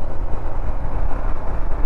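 Royal Enfield Himalayan motorcycle being ridden on a hill road, a loud, close, steady low engine drone with wind rumble, continuous throughout.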